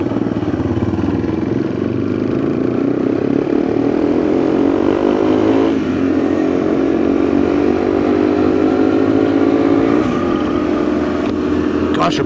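A Trail Warrior 200 kids' motorbike runs steadily and loudly throughout, its engine pitch climbing and dropping with shifts near the middle and end, with voices talking over it.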